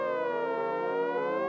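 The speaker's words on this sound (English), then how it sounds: "you hear them sirens?" A sustained, steady siren tone with rich harmonics plays as a sound effect in a funk song, loud and continuous throughout, with no voices.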